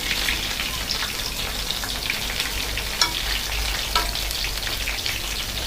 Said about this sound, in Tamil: இது நல்லா ஒரு 2 to 3 minutes வந்து நல்லா ஃப்ரை பண்ணிவிட்டு அதுக்கப்புறம் நம்ம எடுத்துக்கலாம்.